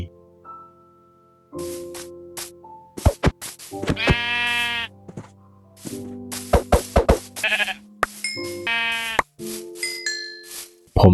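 Sheep in the video game Minecraft bleat in short wavering cries, several separate calls spaced over the stretch, loud and clean against silence, with occasional game clicks and pops between them.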